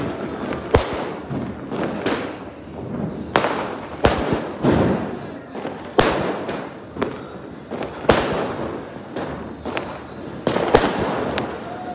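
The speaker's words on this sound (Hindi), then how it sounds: "आज यार ये बम खत्म नहीं होंगे, रात भर चलेंगे ऐसे ही पूरे।" Diwali firecrackers and skyshot fireworks explode in a dense, continuous barrage of loud cracks and booms, near and far, overlapping with crackling tails and no clear speech.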